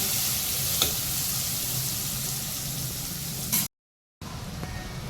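Chopped onion cooks in a pan with a steady broadband sizzle and occasional stirring, loud and close, cut by a brief silence near the end before the frying resumes.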